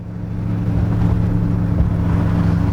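A 1931 Ford street rod rumbles through its exhaust while driving, giving a deep, steady, throaty drone that stays loud and close throughout with no voices.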